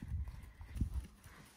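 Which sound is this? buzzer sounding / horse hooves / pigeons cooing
horse hooves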